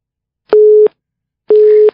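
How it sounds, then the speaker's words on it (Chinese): A telephone busy signal after a dropped call: two loud, steady electronic tones, each about a third of a second long, separated by a short silence, heard close and alone. "这个电话真的是麻烦，刚刚打通了就挂掉了"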